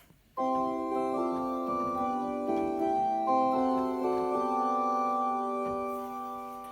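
A sustained electronic organ chord on the top manual, a string stop with 16-foot and 4-foot stops added, holds steadily, with deep bass and higher bright tones layered together, shifting gently between notes before fading slightly at the end.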